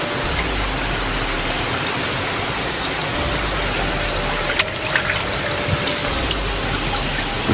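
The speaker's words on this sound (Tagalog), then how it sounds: "yung tubig ba, no? Na nagmumula sa ibabaw." Strong water pours down from above in a steady, close, rushing flow with dense spatter, like rain or a stream falling onto a surface, with a few brief knocks and no talk.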